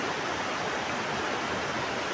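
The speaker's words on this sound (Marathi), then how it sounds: "ही आहे नदी. पूर्ण तिला खूप पाणी आलेलं आहे" A river swollen with floodwater rushes past in a steady, dense roar that fills the whole clip, loud and continuous with no voices.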